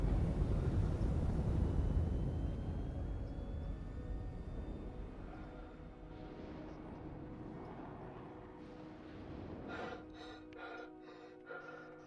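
Spaceship engine roaring at full throttle in Star Citizen, a loud broad rumble at first that eases into a steadier hum with rising tones and pulsing high flutters toward the end.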